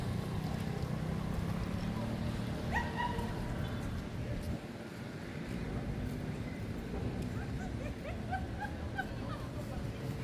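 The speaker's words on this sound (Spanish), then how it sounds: "Ahí están unos perritos." Small dogs barking on a street in Cancún, a few short yips scattered through the clip beneath a steady engine-like drone and traffic noise, with a person talking over it.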